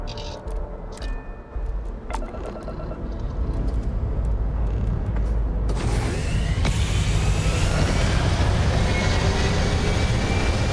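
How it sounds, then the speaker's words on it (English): A spaceship takes off in Starfield, opening with mechanical clicks and whirs before a deep engine roar swells and holds, loud and steady through the rest of the sequence. "I'm going to go ahead and take off, show you the takeoff sequence"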